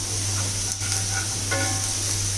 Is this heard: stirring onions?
yes